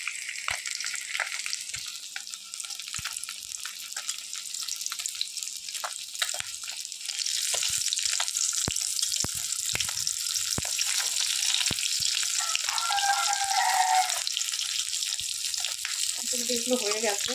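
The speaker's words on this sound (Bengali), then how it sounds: "মাছ ভাজা করছে আর কি" Fish frying in a wok, a continuous bright sizzle that grows louder midway, punctuated by sharp clicks and utensil taps, with faint voices in the background near the end.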